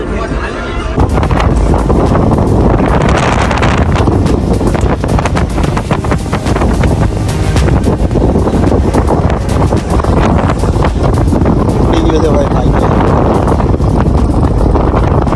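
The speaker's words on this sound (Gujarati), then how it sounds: "હવે એક નંબર પવન આવે છે જોરદાર" Strong wind roars across the open deck of the Hazira–Ghogha Ro-Ro ferry, a loud, steady buffeting rush that fills the whole stretch, with voices faintly mixed in.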